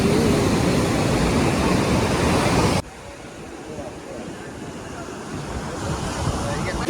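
Sea waves rush against the shore with strong wind noise, loud at first, then dropping to a softer, continuous surf, at a Ganesh idol immersion on the Konkan coast.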